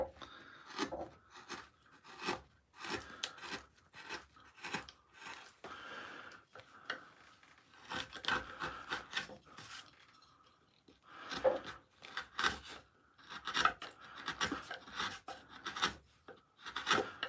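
A gouge cutting into wood during a woodcarving session for a leafy face design, a series of short close scraping and rasping strokes in uneven bursts with brief pauses, no speech.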